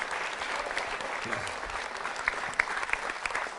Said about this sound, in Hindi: तालियां बजाइए महिमा जी के लिए आप